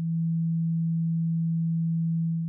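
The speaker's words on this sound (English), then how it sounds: "To show the difference, I'll play two notes, 1/10 of a cent apart." A steady sustained test-tone note, near 190 Hz, plays alone for tuner accuracy comparison at moderate level, unbroken and even from start to finish.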